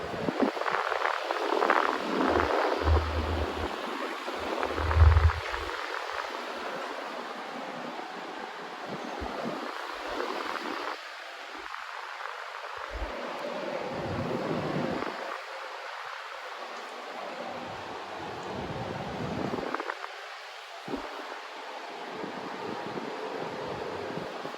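A vintage 1950s/60s Limit 16-inch desk fan runs on medium speed, giving off a steady rushing whoosh of moving air that comes and goes, with low buffeting gusts across the blades.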